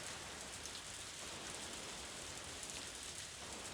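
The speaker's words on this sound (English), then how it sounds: "I guess it is finally raining." Steady rain falls in the farming video game Story of Seasons: A Wonderful Life, a dense, even hiss of rainfall with no other sounds, heard alone at a low level throughout.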